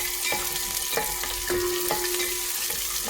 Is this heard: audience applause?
no